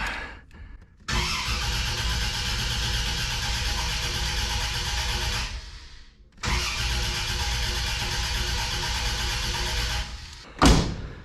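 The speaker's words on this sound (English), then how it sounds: "with our fuel pump turned off here, we'll crank her over a little bit" A Buick Grand National engine is cranked over with the fuel pump turned off, giving two long steady bursts of loud starter churning separated by a brief pause, then a short final thump, with no voices.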